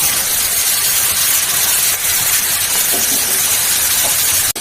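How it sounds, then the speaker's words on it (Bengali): Shrimp rubbed with salt, turmeric and lemon juice frying in hot oil in a pan, a loud, dense, continuous sizzling hiss right up close, cutting off abruptly at the end. "দিয়ে এগুলাকে একটু ভাজবো"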